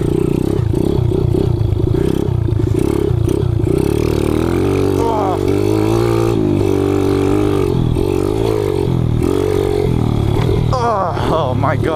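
A Kawasaki KLX 110 pit bike rides on a track, its small engine buzzing loudly and revving up and down through throttle changes, with clattering from the bumpy ride and occasional speech.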